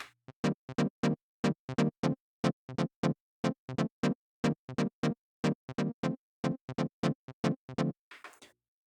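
A punchy preset phrase from a Yamaha RS7000 sequencer plays alone: short, evenly spaced synth stabs in a steady driving rhythm, loud and close, stopping with a brief noisy tail.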